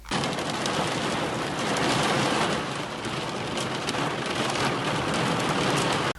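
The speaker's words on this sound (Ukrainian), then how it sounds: "На заході України влупив дощ із градом." Heavy rain with hail pours down in western Ukraine, a dense, loud, unbroken hiss of drops and pellets striking surfaces, steady for several seconds before cutting off abruptly.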